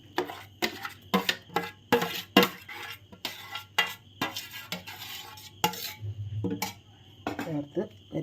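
A ground paste of coconut, cumin, mustard and garlic goes into avial in a pan and is stirred, giving repeated metal spoon clinks and scrapes against the pan in an uneven rhythm, close and fairly quiet.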